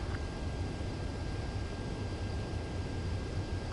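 Fighter jet in Ace Combat 7 on approach to a runway for landing, a steady low engine rumble and broadband roar held at an even level throughout, with no talk.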